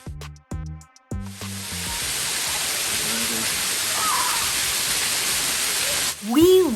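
Tioga Falls pours steadily in a broad, continuous roar of falling water, loud and close, after a few brief tonal sounds at the start and before a short rising call near the end.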